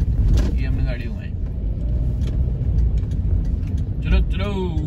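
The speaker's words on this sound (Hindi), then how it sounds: "ये हमने गाड़ी घुमाई।" A car is turned and driven into a parking area, its engine running steadily and close throughout, with people talking over it.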